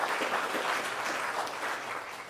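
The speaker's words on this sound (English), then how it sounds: "if we can give them a round of applause" A meeting audience at a Guam Chamber of Commerce gathering applauds: steady, moderately distant clapping from many hands sustained for a couple of seconds.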